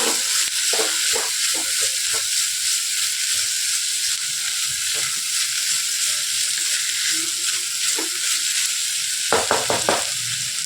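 Mixed vegetables sauté in a pan for a vegetable kurma, a steady loud sizzle and hiss running throughout, with scattered stirring clicks and a brief cluster of scraping near the end.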